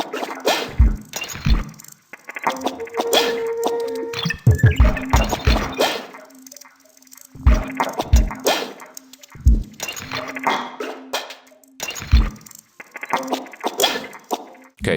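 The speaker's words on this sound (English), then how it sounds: "So altogether the drums sound like this." Gritty, processed drum loop with punchy low kicks and clanky metallic hits in a loose repeating pattern, joined by a sustained tonal drone, loud and close with no voices.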